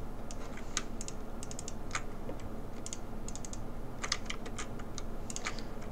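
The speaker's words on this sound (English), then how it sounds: "All I'm doing is just holding tab and clicking one and then double clicking the next." Computer keys and mouse buttons are pressed during Maya texturing work on a glasses model, making faint, quick irregular clicks in small clusters over a low steady room hum.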